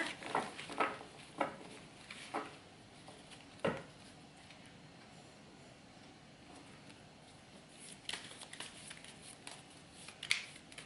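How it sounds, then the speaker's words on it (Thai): Tarot cards being shuffled by hand, giving quiet crisp flicks and riffles in scattered bursts with pauses between, close and soft. "อากิงฟ้าขออนุญาตสับไพ่หน่อยนะคะ"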